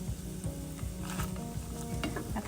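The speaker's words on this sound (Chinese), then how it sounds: "这个时候要开小火炒就可以了，不然黄油会糊掉。 炒出蒜的香味。" Garlic cooking in butter over low heat gives a steady, soft sizzle with repeated scraping and stirring strokes, close by and without talk.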